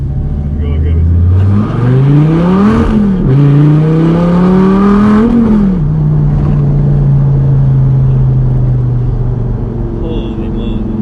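A Dodge Viper accelerates hard from inside the cabin, engine pitch climbing through two loud pulls with a gear change between, then settling into a steady drone; voices are heard over it.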